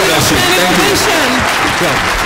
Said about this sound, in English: please let us stand up and give a round of applause to Thione Niang